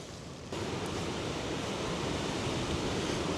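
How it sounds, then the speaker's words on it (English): Strong wind blowing a gale through woodland, a steady broadband roar that swells abruptly after a quiet start and then holds loud and constant, buffeting the microphone, with no voices. "the wind's actually blowing a gale at the minute"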